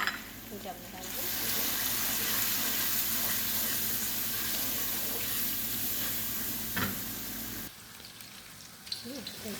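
Tomato and garlic stew frying in a pot while being stirred, giving a steady close sizzle with soft scraping that drops away sharply near the end.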